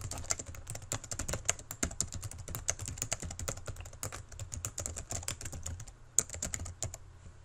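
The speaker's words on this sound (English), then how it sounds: "Type your information into the box." Rapid clicking of keys as someone types on a computer keyboard, a steady uneven patter of soft taps with a few louder strokes, close and alone.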